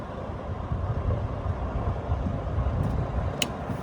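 A low, rumbling mechanical hum from the electric fuel pump of a Husqvarna jet-powered mower runs continuously, steady and moderately loud, with a brief tick near the end.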